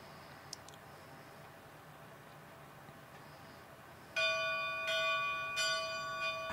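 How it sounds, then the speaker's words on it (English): A bell rung in the Dragon's Dogma 2 video game: quiet ambience, then after about four seconds loud, ringing tolls with long sustained tones repeat twice more, alone without talk. "All that remains is to ring the bell."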